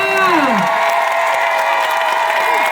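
A church congregation at a service in Bolia, Daloa, applauds and cheers loudly and continuously, with whoops and shouts over the clapping and a sliding voice at the start.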